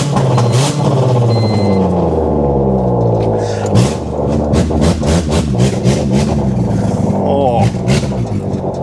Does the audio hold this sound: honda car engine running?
yes